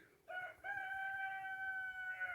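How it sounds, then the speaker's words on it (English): A single rooster crows in a long, drawn-out call, clear and fairly close, over quiet surroundings. "Except for the roosters."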